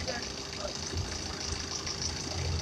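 A state transport depot bus engine idles smoothly after an additive treatment, giving a steady, even low hum with faint mechanical ticking, heard at moderate distance under quiet talk.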